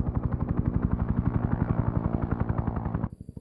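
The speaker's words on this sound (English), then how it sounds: "We get the nice shot of the helicopter approaching the FOB with the sunrise in the background." Helicopter in the video game S.O.G. Prairie Fire, approaching a forward operating base at sunrise: loud, fast, steady rotor chop that thumps evenly for about three seconds, then cuts off abruptly.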